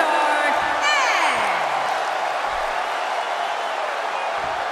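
An arena crowd in the wrestling video game WWE 2K17 cheering and whooping at a steady loud level, with a rising and falling shout over the roar.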